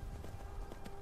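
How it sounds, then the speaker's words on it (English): Horse hooves clip-clop in a quick, even rhythm while riding in Skyrim, fairly close and clear, with faint game ambience underneath. "Ride horse."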